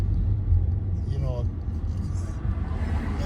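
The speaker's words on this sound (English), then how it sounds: "Traffic's a little heavy today" Steady street traffic rumbles past on a road between Ajijic and Chapala, with low engine drone and passing cars, heard from nearby while a person talks over it.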